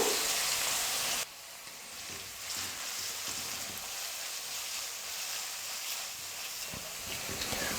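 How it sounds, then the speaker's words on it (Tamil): Sliced onions sautéing in a pan while cooking chicken leg fry (chicken varuval), giving a steady, close sizzle with faint stirring scrapes. No one speaks. "வெங்காயம் நல்லா வதங்கி இந்த மாதிரி ப்ரௌன் கலரில் வர வரைக்கும் நம்ம வதக்கணும்"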